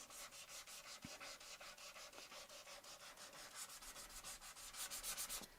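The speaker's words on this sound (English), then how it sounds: "I'm just going to go with the grain again" A wooden heart is sanded by hand with the grain in steady, rhythmic back-and-forth strokes, a close, dry scratching with a few light knocks and no voices.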